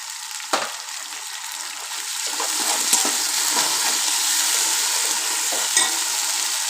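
Ginger garlic paste sizzles with onions and spices in a hot pan for vegetable biryani, a loud steady frying hiss building after a few sharp spoon knocks and stirring scrapes, close up.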